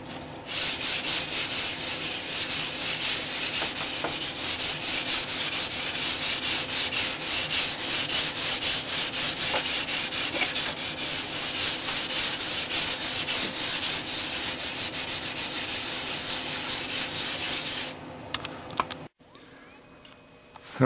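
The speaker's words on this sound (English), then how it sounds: "It's sanded, 320" A guitar body being hand-sanded with 320 grit paper: a dense, rapid scratchy rubbing that runs steadily and close for most of the stretch, then stops abruptly near the end.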